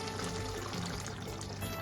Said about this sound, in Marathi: आता आपण ह्यामध्ये एक साधारणतः 1 वाटी पाणी टाकणार आहे